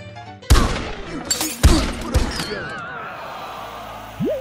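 A few loud, sharp game gunshots ring out close together, with echoing tails, then a quieter stretch with a brief voice at the end.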